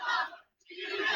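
A wrestling arena crowd roars for CM Punk in two short bursts of massed voices with a brief gap between them.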